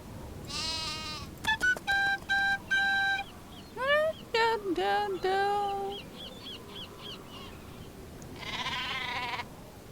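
Cartoonish sheep bleats from the Nancy Drew game The Haunting of Castle Malloy, several short repeated calls in quick bursts, clear and close, followed by a brief squawky cry near the end.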